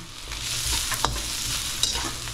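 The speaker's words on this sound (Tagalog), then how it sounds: "Sibuyas natin, mainitan lang para malasa" Onions sautéing in a little oil in a pan after garlic has browned, a steady soft sizzle with occasional stirring scrapes, close and continuous with no voices.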